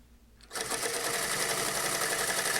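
Sewing machine stitching a jeans hem, starting abruptly after a quiet moment and then running at a steady, close, fast whirring chatter.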